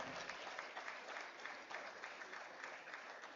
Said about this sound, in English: So maybe again we have a big round of applause for Group Captain Asha.